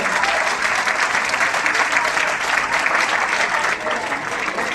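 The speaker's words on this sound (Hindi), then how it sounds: "ये पूरे ड्रामा टीम को हम जोरदार तालियों के साथ धन्यवाद करना चाहेंगे।" Dense, loud applause from an audience thanking a drama team after a narrative stage play about Lord Ram's life at Shri Ram Janmabhoomi in Ayodhya, a steady wash of many clapping hands throughout.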